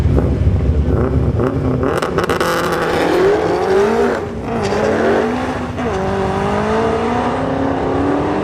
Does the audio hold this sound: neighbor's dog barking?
no